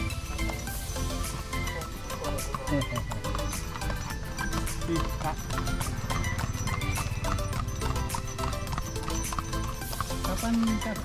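Horse pulling a delman cart on a tourist outing near Borobudur, Indonesia: steady clip-clop of hooves heard close under a dense wash of continuous background noise and voices, with a possible whinny.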